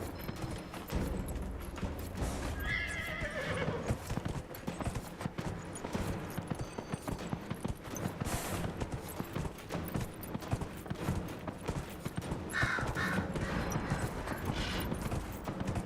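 A horse's hooves clip-clop in a steady galloping rhythm in the Dragon Age video game, with game sounds behind it and little talk.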